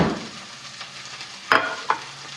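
Onions being stirred and frying in a home kitchen pan, a soft steady sizzle with two sharper clattering stirs near the end, close by with no talking.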